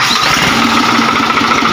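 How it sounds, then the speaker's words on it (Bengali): A Case IH JX55T tractor engine runs at a steady, close idle with an even rumbling throb and no voices. "গাড়ির ইঞ্জিল সাউন্ড শুনতে পাবেন আপনারা।"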